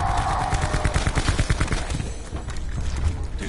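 Rapid gunfire from a weapon in the zombies video game Blood of the Dead, loud dense bursts of shots firing continuously, thinning slightly toward the end, with no voices.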